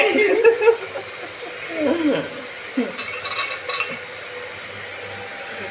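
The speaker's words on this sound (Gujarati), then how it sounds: "સરસ મજાનો વઘાર કરી નાખ્યો છે" Spices sizzle as they are tempered in hot oil for pulao, a soft crackling hiss with a few utensil stirs and clinks, alongside a briefly heard voice.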